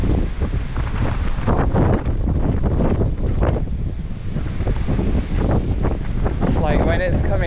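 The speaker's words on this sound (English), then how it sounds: "I'm just fighting against the wind half of the time" Strong wind buffets the microphone during a walk, a continuous loud rumbling roar with gusty surges, while a person talks through it.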